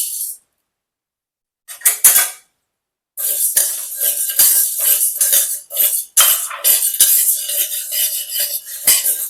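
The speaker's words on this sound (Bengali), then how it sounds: "কড়াই গরম হয়ে গেছে এরপর এক কাপ বিউলির ডাল সেটাকে আমি শুকনো খোলায় ভেজে নেবো" Urad dal being dry-roasted in a hot kadai, with short bursts of metal spatula scraping and rattling grains after a quiet start, then repeated close, bright stirring strokes.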